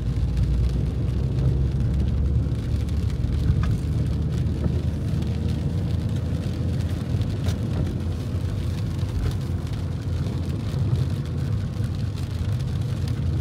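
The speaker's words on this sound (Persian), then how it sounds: "ماشاءالله چه بارونی هم گرفته" Heavy rain falls steadily, a dense, continuous hiss and patter that stays loud and unbroken, with a low rumble beneath it like passing traffic or rain on a vehicle.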